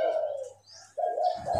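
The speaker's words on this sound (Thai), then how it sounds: "มันยังขันอยู่นะครับ ยังคูอยู่" A spotted dove coos in a big, deep voice, a low rolling call that pauses briefly and then resumes, heard close and clear with no talking over it.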